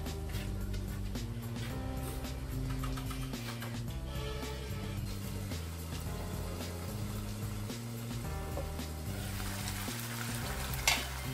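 Pork belly braising in a pot for thit kho is stirred with a steady bubbling sizzle and scraping that runs continuously throughout, close and moderately loud, with no talking.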